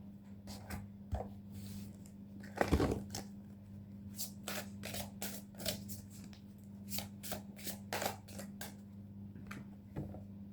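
Tarot cards being shuffled by hand, a steady run of crisp riffling bursts at close range over a low steady hum, with one louder flurry early on.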